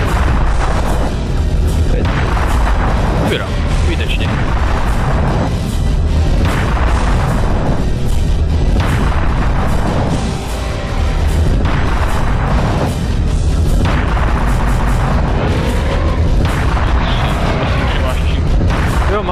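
Repeated heavy booms from a cannon in the video game Serious Sam fire every couple of seconds, loud and continuous, with people talking over the barrage.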